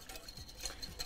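Wire whisk stirring gelatin with vegetable shortening in a bowl for homemade fondant, faint soft scraping and light metallic ticks close by, without talk.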